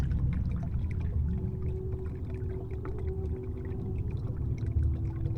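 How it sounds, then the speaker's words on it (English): Soft, continuous lapping of waves on a sandy shore in RuneScape, a steady low wash that stays fairly quiet and even throughout, with no voices. "The waves lapping at the shore, the soft, soft sand."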